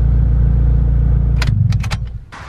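A turbocharged B18 non-VTEC engine in an EK Honda Civic hatch running on a dyno: a steady, loud low drone that then breaks up into uneven idle pulses, with a few sharp clanks and rattles as the sound tails off.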